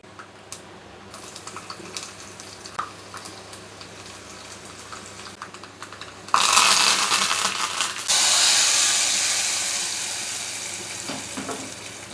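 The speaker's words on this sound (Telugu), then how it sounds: "పప్పు తాలింపు అయితే అయిపోయింది." Hot tempering for sorrel-leaf (chukka kura) dal bursts into a loud, sustained sizzle partway through, after a quieter stretch of low kitchen noise, then keeps frying steadily close by with no talk.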